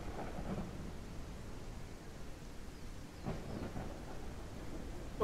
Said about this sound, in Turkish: Yağmur sesi de maşallah var ya. Sağlam yağdı. Şimşekler de çatıyor.